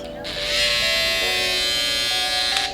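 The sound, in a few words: electric hair trimmer running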